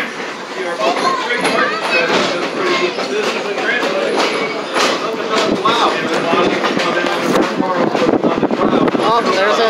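Onboard a heritage Strasburg railroad train, a loud continuous rolling rumble with rhythmic clacks and brief squeals, people talking over the moving cars throughout.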